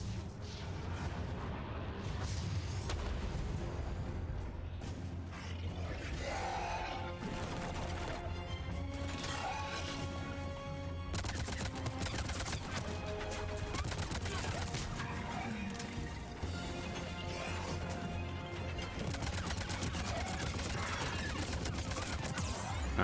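Rapid assault rifle gunfire in the video game Mass Effect 3 rattles out in sustained bursts amid heavy explosive combat noise and music, loud and continuous throughout.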